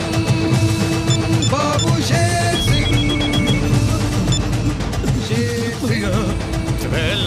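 A telephone bell rings loudly and repeatedly amid a dense, busy film soundtrack in a Bhojpuri movie scene, with other sounds and music layered throughout.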